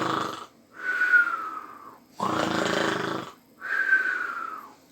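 A storyteller's voice imitates a sleeping wolf snoring in a tale about a wolf and seven young goats, giving three loud, drawn-out, wheezy snore breaths separated by short pauses, close and clear.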